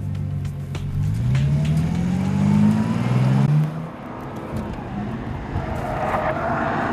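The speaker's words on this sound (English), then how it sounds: "driving this new extreme Bentley around this phenomenal track" A Bentley Supersports roars around the Nürburgring on a lap, its engine note climbing and falling through gear changes in a loud, continuous drone heard from onboard.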